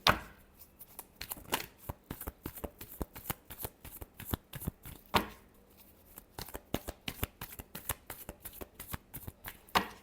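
Tarot cards are shuffled by hand in a continuous run of crisp, rapid riffles and taps, close and fairly quiet, with a couple of louder snaps along the way.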